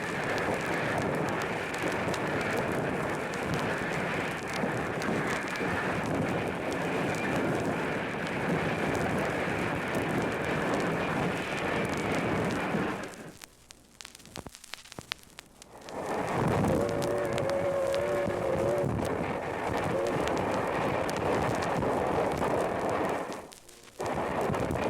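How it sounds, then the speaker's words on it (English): Loud, steady rumbling and hissing of Maine Central Railroad steam locomotive 470 hauling a train, with a brief dip in the middle and a sustained whistle tone near the end. "You picked up the sound of that steam whistle as locomotive 470 hauls away toward Bangor."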